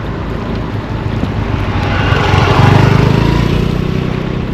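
Sea waves break beside Rajkot fort on the Konkan coast, a broad, close wash of surf that swells louder toward the middle, mixed with gusty wind buffeting the microphone; no voices.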